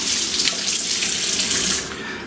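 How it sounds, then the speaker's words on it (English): Water pours steadily from a kitchen tap as a boning knife is rinsed, a close, even hiss of running water that eases slightly toward the end. "grab my boning knife, give that a good rinse"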